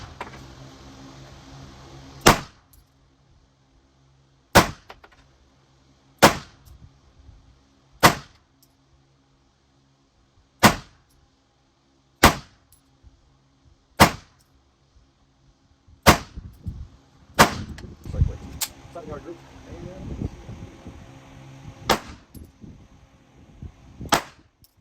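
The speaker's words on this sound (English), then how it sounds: "I'm going to shoot out a base 7 as it would be out here" Gunshots from target shooting with Atlas Nemesis, Titan and Erebus guns outdoors at Hillside Rifle Range: about a dozen loud, sharp single shots at irregular one-to-two-second intervals, with faint rustling between them and no talk.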